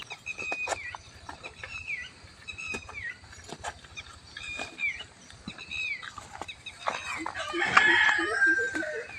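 A rooster crows repeatedly among other fowl and birds calling on a village morning, several loud nearby crows and clucks over a soft, steady background.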